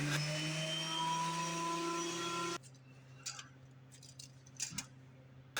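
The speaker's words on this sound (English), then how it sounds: "Planing wood to thickness." A thickness planer feeding wood through for a shaker-style stool, roaring loudly for a couple of seconds before the cut ends, followed by a quieter motor hum with light clicks and knocks.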